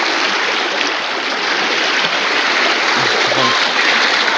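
Strong stream water rushes loud and close in a steady, unbroken roar from start to finish, with faint low thumps near the end.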